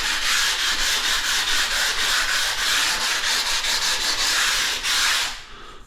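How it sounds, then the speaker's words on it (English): Sharp edge of a bathroom tile being rubbed down by hand, a steady rhythmic scraping with repeated strokes, loud and close, stopping near the end. "What I'm doing here now is just take the sharp edge off this tile."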